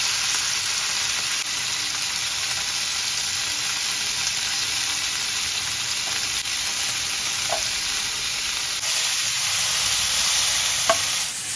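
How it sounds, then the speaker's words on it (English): Tomatoes, garlic and onions fry in sesame oil with a steady, close sizzle throughout, broken by a few light clicks of stirring. "I'm going to fry up real quick the tomatoes, garlic, and onions"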